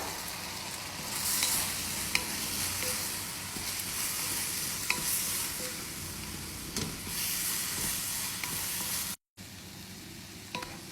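Spice powders of turmeric, chilli and coriander with vegetables sautéing in a pan for a vegetarian kurma, a steady close sizzle and hiss with occasional stirring scrapes throughout, no talking.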